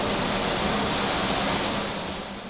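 A 1,300 HP jet suit's engines roaring with a loud, steady, broadband rush that stays constant and close, fading slightly at the end, with no voices.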